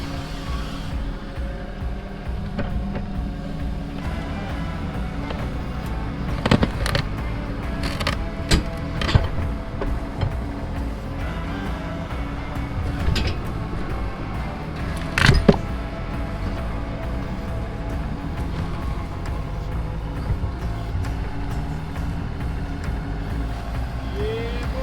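A Branson 3015H backhoe idles and works steadily, its engine rumbling low throughout, while scattered sharp clanks and scrapes of the bucket claws digging into an RV dump break through at intervals.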